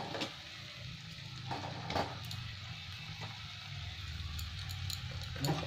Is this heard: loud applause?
no